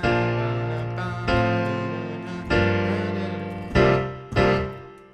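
A piano plays part of the verse of a song as five rich sustained chords, each struck clearly and left to ring and decay before the next one enters.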